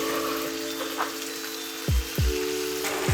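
Pre-cooked pork tipped into sizzling masala in a pan for a Thrissur-style Kerala pork fry: a steady frying hiss with a few dull low thuds as the meat lands, no talking.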